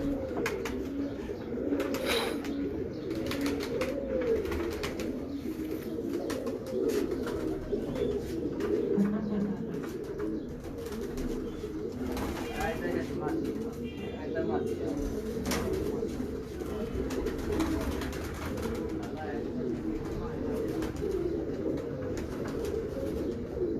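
Sialkoti mor pigeons coo at dusk, repeated soft throaty calls close by that run over steady background noise, with people talking now and then.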